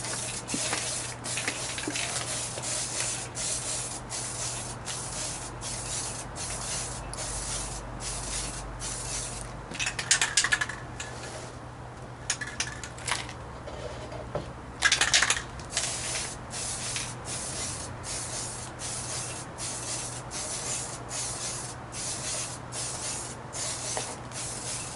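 Aerosol spray paint hisses onto scale model engine nacelles for a DIY RC airliner in quick repeated bursts of close, fairly quiet spraying, with two louder sprays and light handling noises in between.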